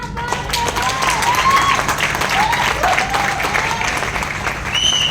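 A large seated audience claps continuously and briskly, a dense, loud wash of applause with a few voices calling out faintly beneath it.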